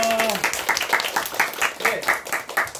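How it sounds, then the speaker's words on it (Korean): An audience at a motivational talk event claps together in a quick, even rhythm of mid-loud hand claps. A voice is heard briefly at the start. "우리 열심히 살고 있는 자기 자신에게 큰 박수 한번 치겠습니다"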